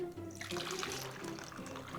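Milk poured for pancake batter, a steady liquid stream running for about two seconds at moderate, close level, with a faint voice in the background.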